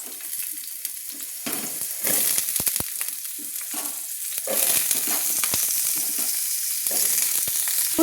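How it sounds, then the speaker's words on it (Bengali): Kohlrabi pieces fry in hot oil in a kadai, a loud, close, crackling sizzle broken by stirring knocks and scrapes, swelling to a denser frying hiss in the second half. "তো আমি ওলকপিগুলো ভেজে নেব। তো আমি দিয়ে দিলাম ওলকপিগুলো।"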